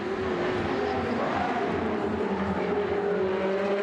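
Ferrari race cars in a Coppa Shell race at the Sochi circuit roar continuously, high engine notes rising and falling as the close pack drives on, loud and steady without talk.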